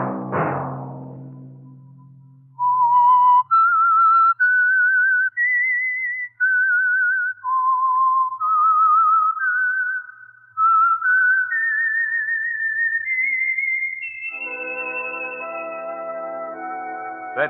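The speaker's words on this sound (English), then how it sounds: "Let that whistle be your signal for the Signal Oil program, The Whistler." A clear melodic whistle carries the eerie theme tune of The Whistler, a Signal Oil–sponsored radio mystery program, rising and falling in sustained notes alone before a brief sustained orchestral chord swells in at the end.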